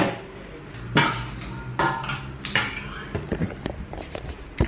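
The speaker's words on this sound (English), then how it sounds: "Mix that all in." Salad ingredients are tossed together in a bowl, giving close, irregular clatters and clinks of utensils against the dish over a few seconds.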